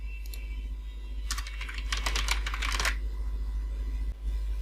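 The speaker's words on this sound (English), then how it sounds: "After typing your phone number, please click next button." Fingers tap out a phone number on a computer keyboard in short bursts of quick, crisp clicks, nearby and alone over a low steady hum.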